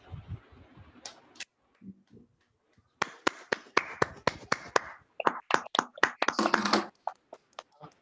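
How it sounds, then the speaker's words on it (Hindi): Audience clapping for speaker Depti Shah at a session, starting with scattered claps and building into a burst of brisk applause, mixed with a few snaps and taps. "सभी लोग दीप्ति जी के लिए एक बार ताली बजा दीजिए"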